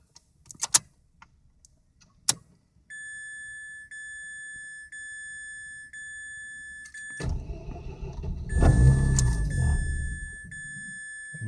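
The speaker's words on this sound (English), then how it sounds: "This is what I get when I try to start my car." A car with a newly installed remanufactured engine fails to start: a few clicks, then a long steady electronic chime tone, followed by a rough cranking surge and rumble that fades back to the chime.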